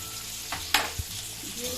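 Ridge gourd sizzles in hot oil with fried jackfruit seeds as it is stirred for a moong dal dish, a brief close frying hiss with a couple of sharp spatula scrapes.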